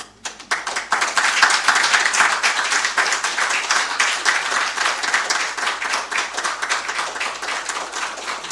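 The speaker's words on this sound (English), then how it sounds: "the chairman and the committee deserve another round of applause" A room full of people clapping at an official presentation ceremony, sustained loud applause with many overlapping hand claps that holds steady for several seconds.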